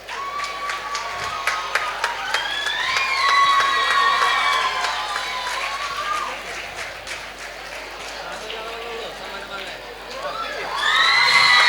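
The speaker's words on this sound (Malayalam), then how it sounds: "യുവജനങ്ങളുടെ ഇടയിലെ കയ്യടി കുറച്ചുകൂടി ഉഷാറാകണം" Audience cheering, whoops and scattered clapping at a state-level World AIDS Day award ceremony, with a large crowd roaring steadily throughout, youthful shouts rising and falling over sustained noise, and voices mixed in.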